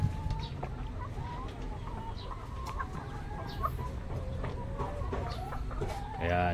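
Dekalb Brown hens clucking in a nesting box, with close, steady murmuring clucks and occasional higher calls over a low rumbling background, ending with a brief louder burst.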